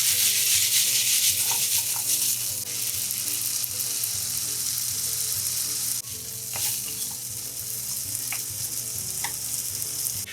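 Potatoes and black trumpet mushrooms fry slowly in a pan over gentle heat, giving a loud, steady sizzle with a few soft clinks of stirring throughout.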